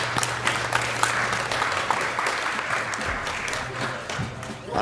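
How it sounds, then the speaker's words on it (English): Audience clapping at a speedrun marathon event for Donkey Kong Country: Tropical Freeze, a steady dense wash of applause lasting several seconds, fairly loud, with some faint voices underneath. "thank you for the claps"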